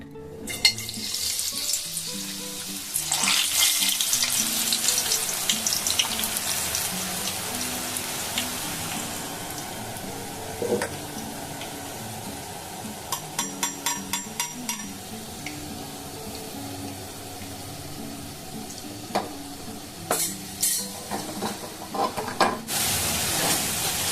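Boondi batter drops into hot oil and sets off a dense, rain-like sizzle with spattering crackle. Bursts of scraping and clicking follow at intervals, and no one speaks.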